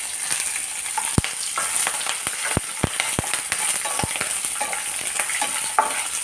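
Slit green chillies hitting hot oil with lentils and peanuts, a steady frying hiss with scattered sharp crackles and pops and occasional stirring clinks, close and moderately loud, with no talking.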